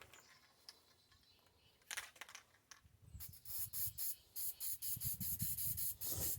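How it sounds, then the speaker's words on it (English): Black spray paint hisses from an aerosol can onto steel foothold traps in a rapid series of short, close bursts, after some quiet rustling and handling. "I'm going to go ahead and spray paint black."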